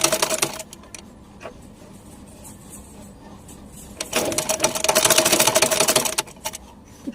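A sewing machine stitches cloth in quick, rattling runs, with a brief burst early on and a longer, louder stretch of stitching near the end, heard close up.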